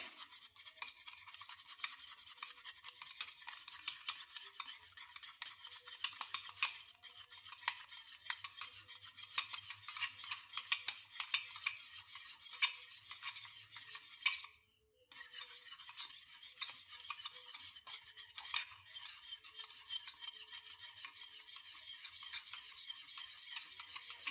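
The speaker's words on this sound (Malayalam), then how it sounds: "ഇനി ഇതൊരു ഫോർക്ക് വെച്ചൊന്ന് ചെയ്യാം നല്ലോണം ഒന്ന് ഇളക്കി യോജിപ്പിക്കും" A fork whisks egg batter in a bowl for a quick breakfast, making a steady, close, rapid scraping and clicking rhythm that stops briefly once and then resumes, with no talking.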